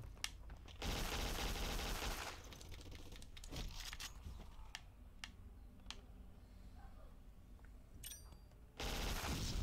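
Rapid gunfire from the video game Black: bursts of sharp automatic shots and single cracks fire at uneven intervals, loud and close, with brief lulls between volleys.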